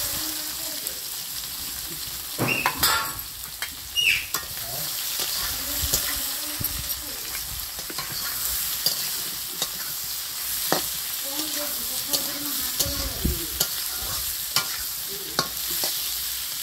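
Potatoes frying in oil in a wok over a village-style wood stove, a steady sizzle broken by scraping stirs and occasional louder clatters.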